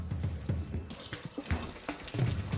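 Water leaking from a pipe runs and splashes unevenly, pattering and gushing in bursts, close by with some faint background noise.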